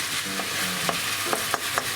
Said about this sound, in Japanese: ひき肉多めなんで先に火を通して8割火を通します